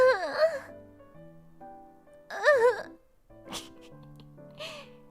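A voice imitates a sad moan, with several drawn-out wavering wails separated by short pauses, close and fairly loud, plus some breathy sighs and gasps in between.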